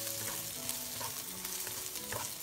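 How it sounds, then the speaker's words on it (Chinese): Eggplant stir-frying in a pan with garlic and chili, a faint, continuous oily sizzle broken by soft scraping and stirring sounds. "倒入茄子，将茄子炒至发黄。"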